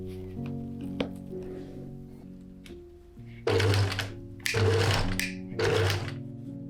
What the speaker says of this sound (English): sewed them onto the bodice with a sewing machine